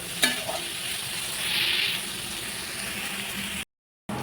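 Bitter gourd frying in hot oil in a pan, a dense steady sizzle with a spatula stirring and scraping, a brief swell in the middle, then a short cut of silence near the end.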